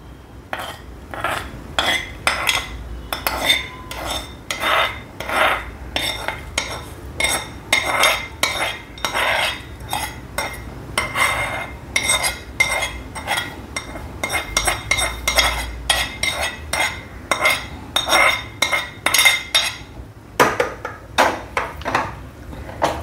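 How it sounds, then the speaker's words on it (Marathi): Spoon clinking and scraping against a bowl while tempering is poured over yogurt sago and mixed in, a steady run of close, bright metallic taps and stirs with no talking. "आणि याच्यावर आपण ही फोडणी घालूया."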